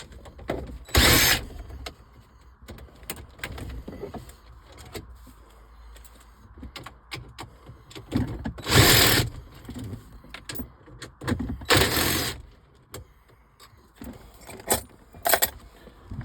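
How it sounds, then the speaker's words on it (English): A 7 mm socket removes the car stereo brackets and CD player, giving close metallic rattles and jingling tool clinks. Several louder bursts of clatter stand out against a quiet background, with no speech. "Now we'll go back with our 7 millimeter to remove the brackets"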